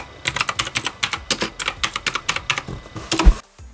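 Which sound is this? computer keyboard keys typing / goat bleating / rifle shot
computer keyboard keys typing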